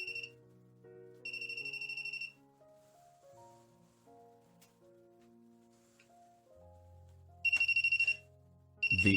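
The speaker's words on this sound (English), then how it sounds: "why the voltage tester is ringing all around the glass surface of the table" A voltage tester rings in short electronic bursts held close to a glass table surface, its piercing repeated tone starting and stopping several times, with a quieter melodic hum and low drone running beneath between the rings.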